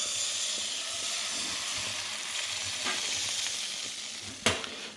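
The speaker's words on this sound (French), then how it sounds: "blanc d'œuf et on le verse" Egg white hits a hot pan and sizzles with a steady crackling hiss, close and continuous, ending in a sharp tap near the end.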